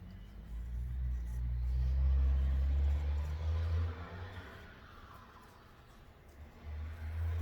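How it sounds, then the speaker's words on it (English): Steady road traffic drifts in through an open door on a sunny day, a continuous low rumble of passing cars that swells and fades across the whole stretch with no talk over it. "I have the door open so you can hear traffic."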